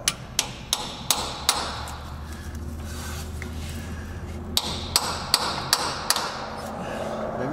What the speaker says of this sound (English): So I'm just gonna take a chisel and a hammer and turn this in a clockwise direction until it bottoms out.